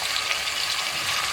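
Beef sizzles steadily in a hot pan while being fried for pilau, giving a continuous close hiss of frying with no break.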